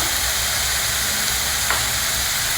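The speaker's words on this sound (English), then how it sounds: "Fry everything very well." Chopped tomato and spices frying in a pan, a loud, even, close sizzle hissing continuously with a faint brief scrape near the end, no talk.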